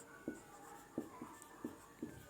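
Chalk taps and scratches on a classroom board in five short, evenly spaced strokes, faint and close, with a quiet room behind and no talking.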